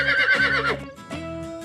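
A horse lets out a loud, shaky whinny lasting under a second, then gives way to cheerful background music.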